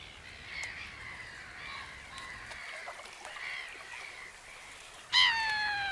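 Noisy, windy outdoor ambience at Lake Constance with bird calls, ending in a sudden loud, harsh black-headed gull cry with a clear falling tone.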